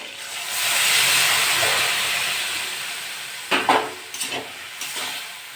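Bottle gourd dropped into a hot pan with ginger paste for a prawn and potato shukto, giving a loud steady hiss and sizzle that swells and then eases, with a few stirring scrapes near the end.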